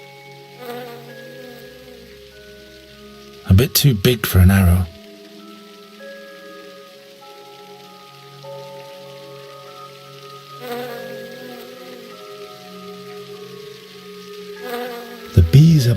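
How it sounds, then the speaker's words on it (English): Bees buzz in a game scene from The Dark Eye: Chains of Satinav, a soft steady drone over faint music, with someone speaking in short bursts. "The bees are buzzing"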